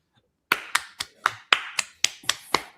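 A handful of people clapping in a joint House and Senate veterans' service organization hearing room, about nine sharp, evenly spaced claps close by after a moment of silence, with no talking.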